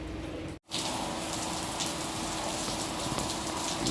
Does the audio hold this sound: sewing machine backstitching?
no